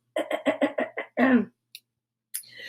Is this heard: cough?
yes